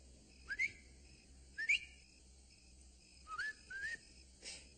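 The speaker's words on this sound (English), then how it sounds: "If you see or hear anything wrong, whistle like this." Several short rising whistles, two in quick succession, then a pause, then two more, with a faint hiss in the background.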